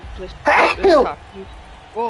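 A single sharp sneeze bursts out up close during a stream of MLB The Show 23, with a throat-clearing sound and talking just before and after it.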